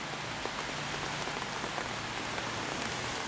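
Steady rain in Bristol falls continuously on surfaces nearby, a dense even hiss with no talk.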